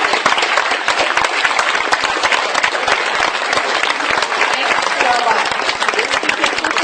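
Steady, dense applause from a crowd at a party presentation event, many hands clapping continuously at an even level throughout.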